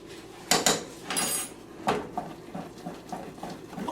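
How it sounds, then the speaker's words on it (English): A spoon scrapes and clanks against a pot while baking soda is stirred into hot peanut brittle candy, giving several sharp knocks followed by quieter, irregular stirring scrapes. "I am going to add the soda, stir it."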